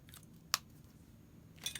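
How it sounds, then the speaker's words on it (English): Two brief, sharp snips sound close by, separated by a short quiet pause. "Split it in half. Scissors and snip."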